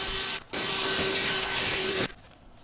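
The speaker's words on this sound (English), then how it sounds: "there are a lot of dead leaves under this trampoline, so I'm going to blow them out so we can do some testing" A leaf blower blasts dead leaves out from under a backyard trampoline with a loud, steady, whining rush. The sound dips briefly near the start, resumes, then cuts off abruptly toward the end.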